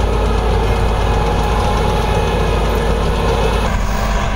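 Fiat 480 tractor running with a 66 cutter rotavator, a loud, steady low engine drone with a rough, knocking undertone, close and continuous without speech.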